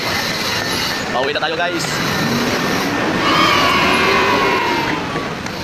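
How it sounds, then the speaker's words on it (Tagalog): An LRT train rumbles and screeches at a busy light-rail station, with a steady loud roar and rising squeal of the cars as people talk nearby. "bakit tayo rito sa may LRT station guys?"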